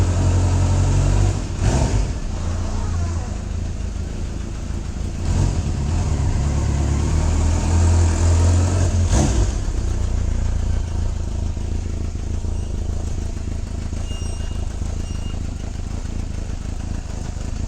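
A 1988 Kawasaki Voyager XII 1200cc touring motorcycle running steadily, a continuous low engine drone with a few brief surges, close and loud, with wind rush over it throughout.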